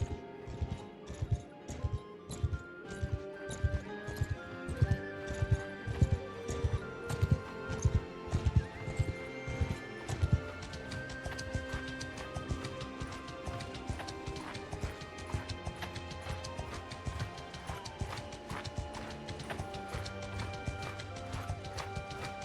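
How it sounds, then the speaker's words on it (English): A horse gallops in the video game Mount and Blade Bannerlord: rapid, rhythmic hoofbeats pound close and loud for about ten seconds, then thin into softer, scattered clopping with faint background clatter. "Horse is moving in."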